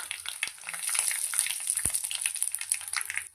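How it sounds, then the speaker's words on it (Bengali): Mustard seeds, bay leaves and nigella seeds tempering in hot oil, a steady close bright sizzle with scattered pops and crackles throughout, plus one sharp low knock near the middle. "দিয়ে দেবো দুটো তেজপাতা, সর্ষেটা ফোড়ন দিলাম, দিয়ে দেবো সামান্য কালো জিরে"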